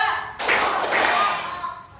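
Group hand clapping in a classroom clap game used as an ice-breaker, a loud burst of claps from many people starting abruptly after a short pause, with a voice faintly under it.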